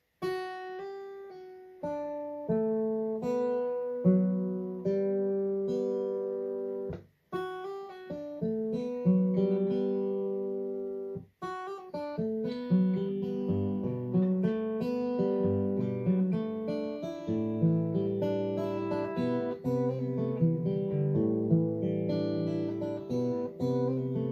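Slow guitar notes ring out one by one, then gather into a gentle, sustained melody with overlapping plucked strings, played alone.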